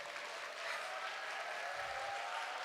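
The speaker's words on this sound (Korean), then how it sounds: "박수 한 번만 쳐주세요." Applause from the audience at a student growth presentation, a steady wash of many hands clapping that holds at an even level throughout.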